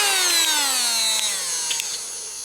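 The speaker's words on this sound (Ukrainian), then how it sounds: "Black Decker, акумуляторний гравер, має підсвітку, плавний старт, регулюється обороти переключення" Black & Decker cordless rotary engraver with soft start and adjustable speed, running alone with a close, bright high-pitched whine that glides steadily downward as the speed drops.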